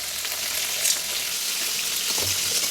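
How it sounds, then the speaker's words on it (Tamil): Shredded cabbage sautés in a pan with garlic and salt, a loud, close, continuous frying hiss with a few faint stirring scrapes and no talk. "கோஸ் நல்லா வதக்கி விட்டுக்கலாங்க"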